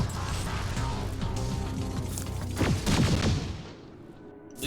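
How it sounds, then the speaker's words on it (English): A video game battle with a dense run of booms and crashing impacts, loud and continuous at first, then thinning out toward the end. "At least the explosions don't hurt me."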